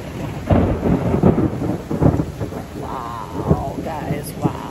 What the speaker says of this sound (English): Ooh, there was another lightning right there.